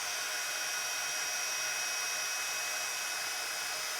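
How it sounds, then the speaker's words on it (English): An embossing heat gun, warmed up for heat-embossing powder on black cardstock, blows with a steady, loud, unbroken whoosh of hot air for the whole stretch. "Get my heat gun on. Be sure to heat your heat gun up really well."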